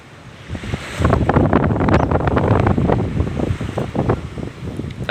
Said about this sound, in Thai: แต่วันนี้ลมแรง